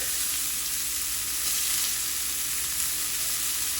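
Salmon pieces frying in hot oil in a pan give a steady, close, dense sizzle that holds evenly throughout with no voices.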